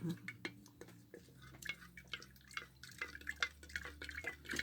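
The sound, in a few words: stirring chalk paint mixture with a stick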